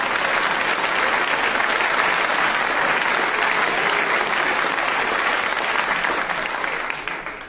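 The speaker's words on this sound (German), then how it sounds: "ich hoffe, die Herren, die da klatschen, fühlen sich mit angesprochen" A theatre audience bursts into loud, sustained applause, a dense wash of clapping that holds steady for several seconds before tapering off at the end, with no talk over it.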